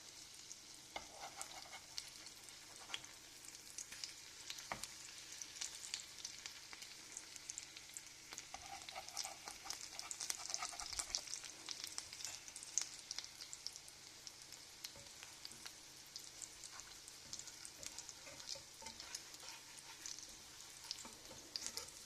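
Chicken cutlets sizzle and crackle in a frying pan, a quiet, steady hiss with scattered pops throughout.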